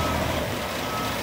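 A heavy-duty truck backs up with a steady electronic reversing beep sounding continuously over loud engine rumble, close by, with no one talking.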